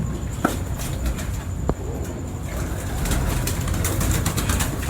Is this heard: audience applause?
no